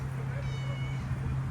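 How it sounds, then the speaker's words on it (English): A kitten at an outdoor colony shelter with feeding boxes gives a brief, thin cry that is faint and partly buried under loud low rumble and ambient noise. "And there's one kitty crying."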